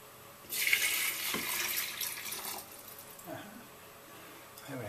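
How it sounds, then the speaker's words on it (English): Water pours into a KitchenAid kettle in a home kitchen, a steady rushing stream of about two seconds that then tapers to a trickle and faint drips, close by. "I'm going to pour in the water."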